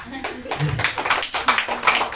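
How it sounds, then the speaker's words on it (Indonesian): A church congregation claps during a sermon, uneven broadband bursts of applause mixed with voices talking over it. "Kok tidak tepuk tangan?"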